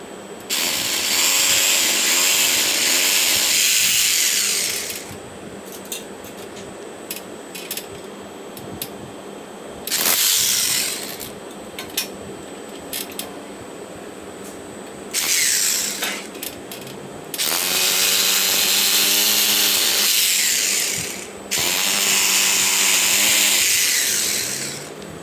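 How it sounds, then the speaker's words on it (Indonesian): A power drill bores mounting holes for the wall bracket of a Daikin inverter air conditioner's outdoor unit, in several loud whining bursts of a few seconds each, separated by quieter gaps with light clatter. "Pengeboran untuk pemasangan dinamo mengait bracket outdoor."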